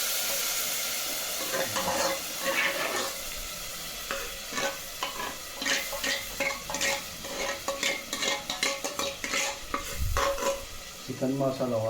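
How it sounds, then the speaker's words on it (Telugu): Chicken masala fries in a pan on the stove while a spoon stirs it repeatedly: a steady sizzle runs underneath rhythmic scraping and clinking strokes, all close-up and without speech. "ఇంకా ఇలా మంచిగా తిప్పేసి స్టవ్లో పెట్టుకుని"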